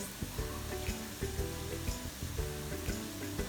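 Potato balls frying in oil until golden brown, a steady close sizzle with a faint rhythmic bubbling crackle running throughout, no talking.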